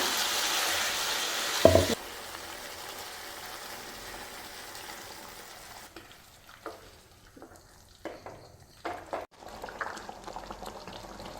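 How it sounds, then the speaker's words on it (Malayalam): Masala paste poured into a pan of frying malai chicken: a loud splash and burst of sizzling, then a quieter bubbling simmer with intermittent stirring clatter. "അരപ്പ് ഇതിലോട്ട് ഒഴിച്ചു കൊടുക്കാം"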